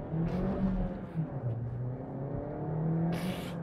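A 2021 Suzuki Swift Sport accelerates, its engine note rising and holding steady from inside the cabin, a continuous moderately loud hum with no talk over it.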